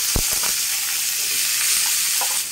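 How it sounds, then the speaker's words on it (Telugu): Vegetable pieces frying in oil in a pan for a fish curry hiss in a steady, close sizzle, with a few low knocks from stirring at the start and near the end. "కాయ ముక్కల్ని వేసుకొని వేయించుకుందాం."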